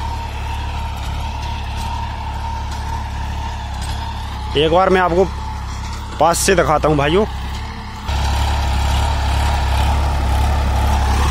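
A 35 hp New Holland 3032 tractor pulling a tiller runs steadily in a field, its low engine drone constant throughout and growing louder near the end, while someone talks over it.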